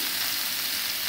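Chicken tikka pieces sizzle on a heated grill tawa with butter or ghee, a steady close frying hiss with no talk.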